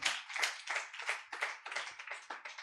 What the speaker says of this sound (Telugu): చప్పట్లు కొట్టి దేవుని నామని కనపరచండి.